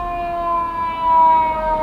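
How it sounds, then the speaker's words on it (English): A fire engine siren wails in a steady sustained tone that swells slightly as it passes, heard from inside a car with no talk. "There's a fire engine coming through."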